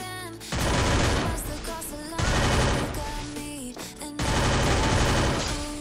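Three loud bursts of rapid automatic gunfire in a mobile shooter game, each rattling volley lasting over a second with short gaps between, close and dominant with faint music beneath.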